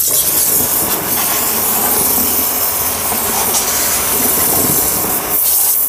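A STARQ QT-30 pressure car washing machine sprays water in a loud, continuous high-pressure hiss close by, steady for several seconds with slight shifts in intensity.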